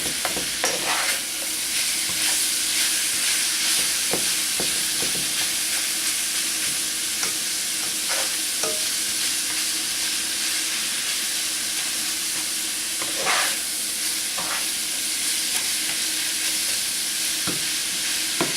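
Italian sausage frying in canola oil gives a constant loud sizzle and crackle, with periodic spatula scrapes and stirring clicks throughout.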